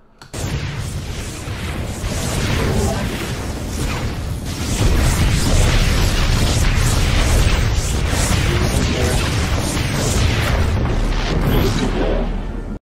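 StarCraft 2 proton cannons pound a Colossus in continuous loud booming bursts and whooshes, a dense, sustained barrage of sci-fi weapon fire.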